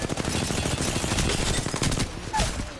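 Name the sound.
gunfire in the video game Apex Legends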